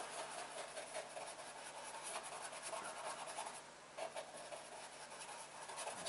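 Close, quiet bristle scrubbing of a paintbrush working acrylic paint onto canvas. The rough, continuous rubbing strokes come in an uneven rhythm.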